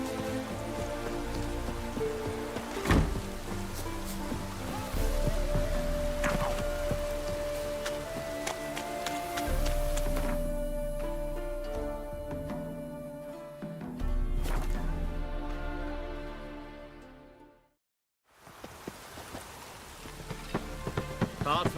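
Rain falling in The Witcher 3: Wild Hunt, a steady patter heard under game music and ambience, with a brief near-silent dip late before the rain resumes.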